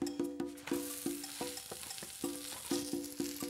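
A broccoli and black bean quesadilla cooks in a hot pan, with a steady sizzle under a run of regular clinking knocks from a utensil against the pan, close and alone.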